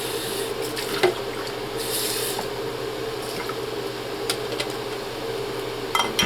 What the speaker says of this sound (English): I just give that a rinse real quick.